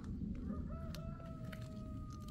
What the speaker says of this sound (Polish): Za mną kogut pieje.